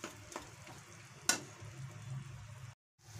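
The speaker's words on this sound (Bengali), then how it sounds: "দিয়ে আমি একদম গ্যাস লো হিটে রেখে মশলাগুলোকে প্রথমে ভেজে নেব" Ground spices frying on low heat in a pan, a soft quiet sizzle with a few scraping stirs and one sharp clink, cutting to a brief silence near the end.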